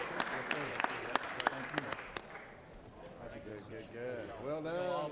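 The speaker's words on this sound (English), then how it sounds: "Y'all give these guys a round of applause as well for their service to our state" Scattered applause rings out for commissioners in the Georgia Senate chamber, with sharp claps over the first couple of seconds that fade as people start talking.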